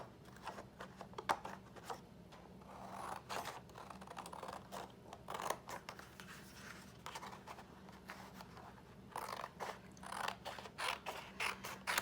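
Scissors cut out a waterslide decal image, producing soft repeated snipping and crisp paper clicks in an irregular rhythm, close and very quiet with no talking.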